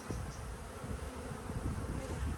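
Honeybees buzz steadily around an open hive during an inspection, a dense, low, continuous drone that stays close and even throughout with no voices.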